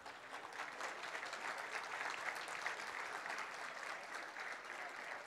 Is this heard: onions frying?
no